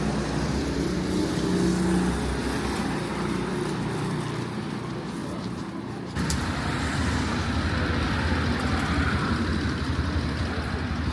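A small car drives past on a city street in Asuncion, Paraguay, its engine and tyre noise steady and close amid general traffic rumble for about eleven seconds, with a brief dip midway.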